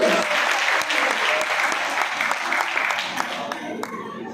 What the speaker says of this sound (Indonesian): berikan tepuk tangan dulu kalau setuju